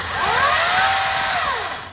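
A small electric saw runs in a store, a high whining motor that spins up, holds steady and winds down over about two seconds, close and alone with no talk.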